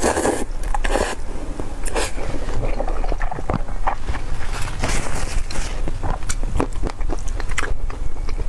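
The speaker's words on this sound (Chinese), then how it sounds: "再来吃一个南昌拌粉。" Nanchang mixed rice noodles are eaten right up close, with dense, loud wet chewing and slurping bites and small crackles running steadily throughout, no speech.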